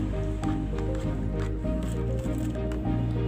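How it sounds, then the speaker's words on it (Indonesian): Homemade pesticide mixture of soaked clove-cigarette butts and liquid soap is stirred, giving soft, wet squishing and sloshing up close over a steady background hum. "kita aduk"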